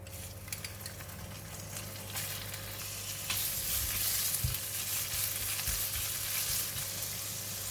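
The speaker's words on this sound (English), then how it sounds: "Switch on the heat again, and now I'm putting in the meat." Minced pork frying in a hot pan for steamed tofu, giving a loud, continuous sizzle that swells after the first few seconds, with occasional spatula scrapes and pan knocks and no talking.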